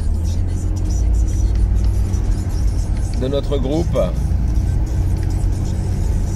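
Steady road traffic rumble as cars, including vintage Traction and 203 models, pass by, with an engine revving briefly; someone talks over the noise.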